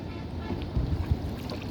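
A boat moves through choppy water on the Mahanpur River, with a steady low rumble, lapping waves and gusts of wind buffeting the microphone.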